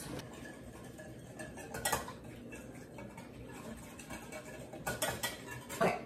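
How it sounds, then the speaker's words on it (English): A whisk works through French toast batter mixed with orange juice. Quiet clicks and taps sound against the bowl in an irregular rhythm, with a few sharper knocks over a faint background hum. "let me whisk this"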